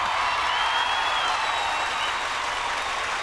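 On a Kannada TV comedy show stage, the studio audience gives a dense, steady hiss of applause and crowd noise at an even level throughout, without clear individual claps or speech.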